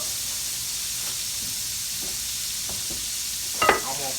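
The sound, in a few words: catfish frying in oil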